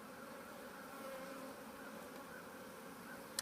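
Honeybees from a package hum around a queen cage, a soft, steady, close buzzing that continues without break.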